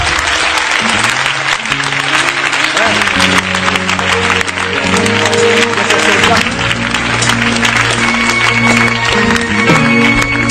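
Congregation applauding for God during a Haitian church service, a steady wash of clapping carrying on throughout with music tones sustained underneath.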